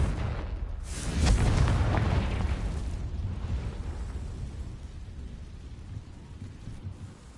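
In Hogwarts Legacy on PS5, a Confringo spell explodes as a heavy, rumbling boom that swells in after a sharp start and then rolls away into a long, fading tail.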